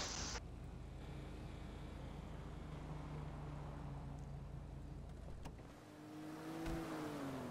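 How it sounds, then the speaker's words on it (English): A car drives away in Grand Theft Auto V, its engine holding a steady drone under continuous road noise before a rising rev near the end; no speech. "I'm just going to get in the car and just drive out"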